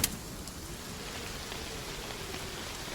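Steady rain falls on an evening outdoor scene, a dense, even hiss of drops on surfaces lasting throughout, with a sharp brief tap right at the start and no voices.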